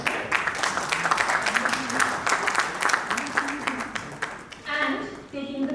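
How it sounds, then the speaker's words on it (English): Audience applause at a literary event, steady and full throughout with a continuous patter of many hands. A speaker's amplified voice runs over it from start to finish. "Please have a big round of applause"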